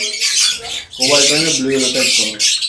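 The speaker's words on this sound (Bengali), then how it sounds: "এরপরে আমাদের এখানে ব্লু কোনুর আছে, তাই তো?" Blue conure parrots at a large exotic bird farm, loud, harsh squawks close by in quick overlapping bursts that barely pause across the whole stretch.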